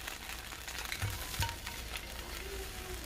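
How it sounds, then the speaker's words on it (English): A steady, quiet sizzle of red wine hitting a hot pan, with a couple of soft scraping knocks as it is stirred to lift browned bits. "So this is sizzling, and I just want to get up all those little brown bits."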